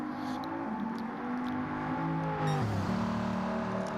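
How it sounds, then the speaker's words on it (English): A purple Bugatti race car in a racing video game, its engine droning steadily then dropping pitch sharply as it shifts gear and revs back up, a loud continuous mechanical tone with no talk. "Listen to the sound of that engine."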